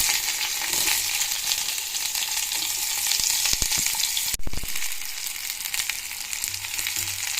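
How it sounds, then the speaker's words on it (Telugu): Mustard seeds and onions frying in hot oil in a pot, a steady bright sizzle with crackles throughout and a brief clatter of the pot near the middle, with no talking. "ఆయిల్ వేడైన తర్వాత ఆవాలు, ఉల్లిపాయలు వేసి దూరగా వేయించుకోవాలి."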